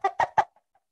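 Three quick, bright clucking sounds in a row, like a hen's bok-bok-bok, made by a chicken cup instrument, followed by silence.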